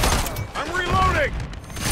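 An MCW assault rifle being reloaded in Modern Warfare 3, with brief metallic mechanical clicks and handling under a rising radio-style voice call and steady battlefield noise close by.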